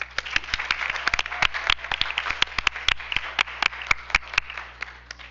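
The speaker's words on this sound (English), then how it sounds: "Let's give them one more round of applause." A small crowd at a school board business meeting applauds the month's award winners. Separate, crisp hand claps sound at an irregular pace, fairly close and moderately loud, with no talking over them.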